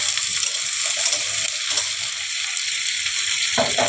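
Potatoes and two green chillies hit hot oil for a Bengali ridge gourd and potato posto dish, giving a steady, close, hissing sizzle that runs unbroken from start to finish with no talking.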